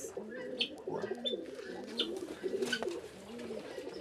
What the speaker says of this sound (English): And look at the birds here.